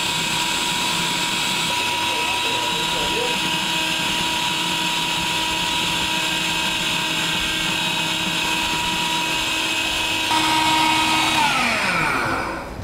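A food processor whirs at high speed, blending avocado hummus with garlic. The motor is loud and steady for most of the clip, then surges slightly before winding down at the end.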